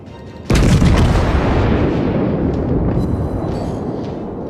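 American warship guns in World of Warships fire as one sudden, loud booming blast, followed by a long, heavy rumbling roar that slowly fades.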